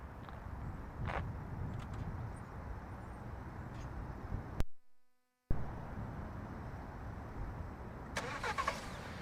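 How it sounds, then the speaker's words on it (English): A 2019-2021 Kia Seltos engine cranks and turns over after a brief pause via remote starter, then settles into a steady idle outdoors. "And here you go, the car started."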